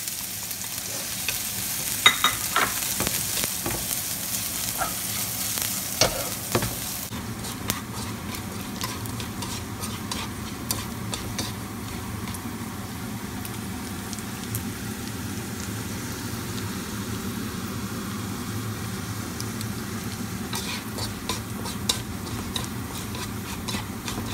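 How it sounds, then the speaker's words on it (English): Bacon fries in a wok with a steady, moderate crackling sizzle throughout, and scattered clicks and scrapes from stirring stand out early on. "then fry the bacon"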